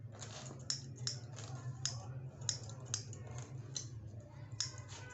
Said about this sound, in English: I use the scissors